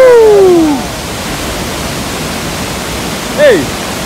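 Rushing water roars at Fourteen Falls in Kenya, a broad, steady wash of noise close by, with a couple of brief whistling, swooping tones cutting through near the start and again toward the end.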